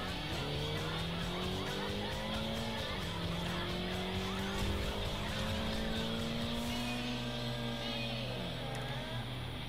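A car in Forza Horizon races flat-out toward a speed camera, its engine screaming close and loud with rising revs and gear shifts, plus brief tire squeal.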